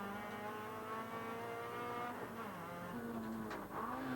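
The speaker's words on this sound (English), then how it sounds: "here we see the incident again from inside Barry Barrable's car" Onboard a touring car racing at Phoenix Park, Dublin in 1996: a loud, steady engine drone rises and falls through gear changes, with a brief tyre scrub near the end and no voices.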